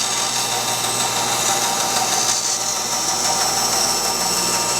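Running band saw cutting a wood bowl blank: a loud, steady high-pitched whine and hum, continuous and close, with no talking.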